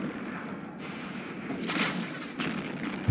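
Weapons fire at a target in the space game Eve Online: low rumbling booms with sharp, bright bursts of launcher or turret fire, moderately faint, a few distinct shots over a continuous low hum.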